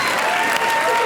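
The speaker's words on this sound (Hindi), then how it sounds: "जोरदार तालियां इनके लिए।" Loud, dense applause from a studio audience at a comedy show, a brief continuous burst with a faint tone beneath.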